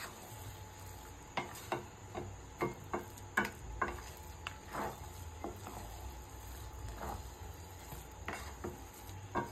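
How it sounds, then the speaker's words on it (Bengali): Pulao with fried cashews, raisins and spice being stirred in a pot: a steady run of soft scraping and clicking spoon strokes, close and fairly quiet, over a low background hum. "আর সেই ভাজা মশলাটা দিয়ে এবার আমি ভালো করে মিশিয়ে নেব"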